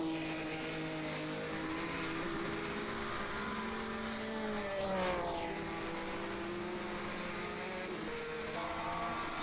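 Engines of 1967 Formula One race cars at Watkins Glen in a racing video game hold a steady high-pitched whine, and one car's pitch swoops audibly as it passes close by.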